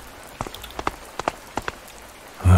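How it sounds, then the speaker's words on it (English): Rain begins in the A Space for the Unbound game, heard as scattered, faint drops tapping a surface in an irregular patter, ending in a brief louder low thud. "It's starting to rain."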